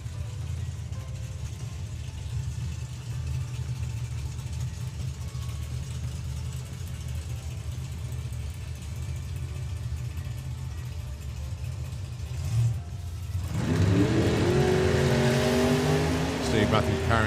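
A 1957 Chevy drag race car idles with a low rumble at a drag strip during the STP Sportsman Nationals, then its engine roars loudly at launch near the end, with an announcer talking throughout.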